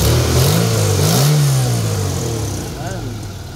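A Mitsubishi Lancer engine, repaired after hard starting, misfiring and low power, revs up close and loud with a climbing then falling pitch before easing back, someone speaking over it.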